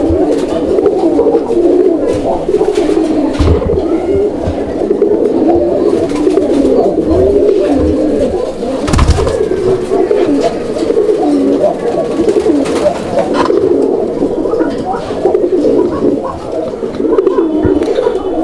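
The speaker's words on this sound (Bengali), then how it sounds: "দর্শক আপনারা দেখলেন কত চমৎকারভাবে কবুতরটা ডাকে" Raj Golla pigeons coo loudly and continuously at close range, many overlapping throaty calls forming a dense, steady chorus.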